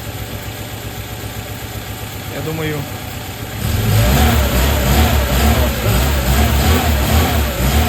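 A car engine, freshly filled with oil and with adjusted valves, idles with a steady low rumble while warming up, then revs up and holds a louder, rougher drone; a voice briefly speaks over it.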